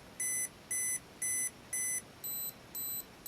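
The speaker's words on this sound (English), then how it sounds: "I hear beeping, and you can see the blinking light" An Olympus XA2 35mm film camera's self-timer beeps six times in an even rhythm, faint high-pitched tones with the last two slightly higher, over quiet room hiss.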